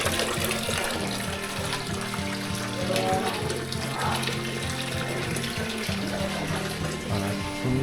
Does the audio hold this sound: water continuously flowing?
yes